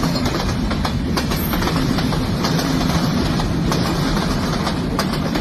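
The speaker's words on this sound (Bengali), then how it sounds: "ট্রেনটা সাইরা দিছে, ট্রেনটা গেছে গা" A passing train rumbles steadily with faint clickety-clack from its wagons. The dense, even noise is loud and continuous for over five seconds, with no speech.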